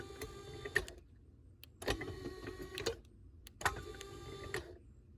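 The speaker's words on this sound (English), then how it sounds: "when you push the button, you can see one side opens, one side closes." An electric exhaust cutout valve motor whirs in three separate bursts as it opens and closes, each a short mechanical buzz ending in a light click, with quiet gaps between, heard up close.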